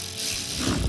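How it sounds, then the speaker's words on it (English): A hand ratchet clicks quickly at close range as it tightens the clamp on the red oiled filter of a cold air intake on a 2015-2020 Dodge Charger SRT Hellcat, a brief burst of ratcheting. "Tighten your clamp on your filter."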